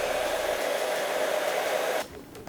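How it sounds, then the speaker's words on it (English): A heat gun or hair dryer blows a steady whooshing roar to warm a dbrand leather skin flap on a Steam Deck, then cuts off abruptly just before the end. "Heat the left side of the device until the flap becomes soft."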